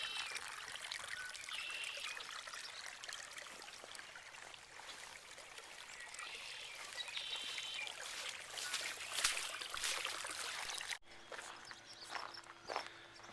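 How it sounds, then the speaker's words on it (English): Water trickles steadily from a farm irrigation system in Gem County, Idaho, filling a field. The soft, continuous dribbling stays faint and even throughout, with no talking. "starting to fill up this area that he's released from this irrigation system that he set up"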